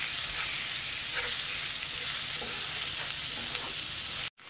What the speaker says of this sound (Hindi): अब इसके अंदर मैं 1 टेबल स्पून अदरक लहसुन का पेस्ट ये डालकर मैं इसको हल्का सा फ्राई करती हूँ 1-2 मिनट के लिए